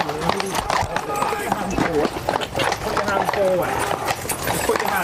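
Cavalry horses on parade fidget and shift, hooves clip-clopping in irregular bursts close by, with a voice talking over them throughout.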